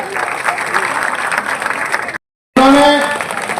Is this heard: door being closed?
no